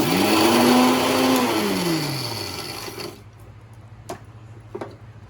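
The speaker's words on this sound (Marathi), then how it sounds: "हा डिंक मिक्सर लावून द्यायचा एकदम बारीक करायचा" A kitchen mixer grinder whirs loudly, grinding edible gum fine for fenugreek laddoos, with a falling motor pitch as it spins down and stops, followed by a couple of faint clicks.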